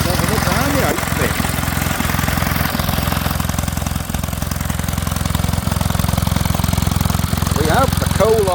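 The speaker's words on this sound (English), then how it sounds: "We have the Kohler Model T. She's got some good chat going there." Vintage Kohler Model T generator engine chugging steadily up close, a constant low thumping run with faint periodic knocks, driving a dynamo for a home-made light box.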